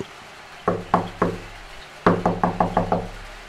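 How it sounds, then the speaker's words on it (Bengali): Three spaced knocks on a hard pane, a short pause, then a quicker run of about seven raps, close and crisp in a quiet room. "কিছুক্ষণ পর আবার সেই টোকার শব্দ।"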